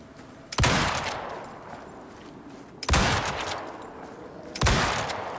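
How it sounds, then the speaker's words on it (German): Three loud, sharp gunshots ring out about two seconds apart in the survival video game Icarus, each a booming crack with a long decaying tail over a low ambient background. "Schieß nicht wie ein Wilder hier rum"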